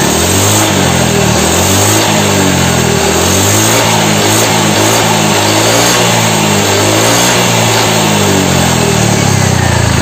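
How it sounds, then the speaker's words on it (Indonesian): A motorcycle engine with a newly replaced piston is revved hard and continuously throughout, a loud, close, droning roar with rising and falling pitch. "Kalau kita geber ya ada kayak semacam"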